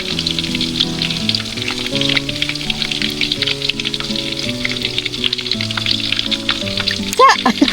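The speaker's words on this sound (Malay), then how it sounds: "Oh, ada ikan goreng hang." Steady crackling sizzle of fish frying in hot oil at a flood-hit campsite, continuous and close, with brief faint voices near the end.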